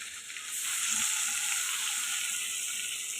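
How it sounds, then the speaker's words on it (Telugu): Boiled eggs frying in hot oil with turmeric, giving a steady, close sizzle that holds evenly throughout with no talking. "ఇప్పుడు ముందుగా ఉడకపెట్టి పెట్టుకున్న ఎగ్స్ అయితే వేసేసుకున్నాం"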